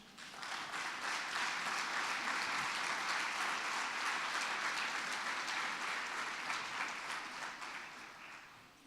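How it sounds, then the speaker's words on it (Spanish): A church congregation claps in sustained applause during a sermon, swelling in within a second, holding evenly for several seconds, then fading away; heard from some distance and fairly quiet. "Dale un aplauso al Señor."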